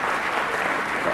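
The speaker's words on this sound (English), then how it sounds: "the applause are lovely" A presidential debate audience breaks into dense, even applause that sounds like a steady wash of clapping throughout.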